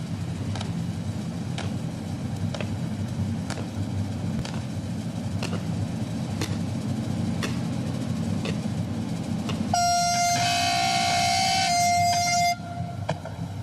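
A loud, sustained train horn blares for a few seconds over rumbling rail noise and rhythmic clacks of wheels on track as a train exits a tunnel at its inauguration ceremony.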